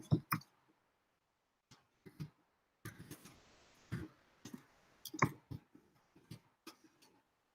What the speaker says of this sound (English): We'll type it up here.